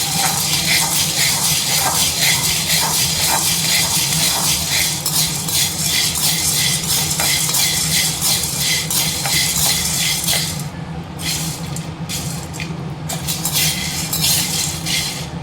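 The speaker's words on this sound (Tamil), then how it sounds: "இது கூடவே சேர்த்து சுக்கையும் வறுத்துக்கலாம்" Lentils and dry ginger being dry roasted in a pan while making a health mix powder, with steady scraping and clinking of a utensil against the pan throughout, loud and close, easing slightly near the end.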